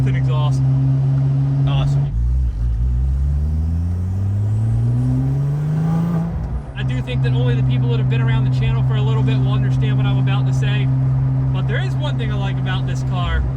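A stock Porsche 911 Turbo with an exhaust fitted idles with a deep drone, then revs in a rising sweep and settles back to a steady idle, loud and close, with people talking over it.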